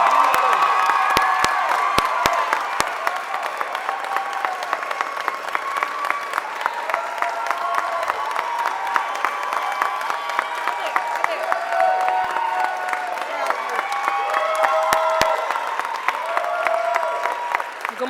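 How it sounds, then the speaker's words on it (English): An audience at a mayor's press conference gives a sustained round of applause with scattered cheers and whoops for the honoree, steady and fairly loud throughout with no break in the clapping. "Give a round of applause to Shania"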